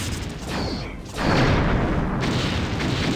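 Starship torpedoes fire from the rear tubes in the space combat game Star Trek Bridge Commander, a loud, continuous booming launch after a brief quieter start, with a rumbling roar holding steady to the end.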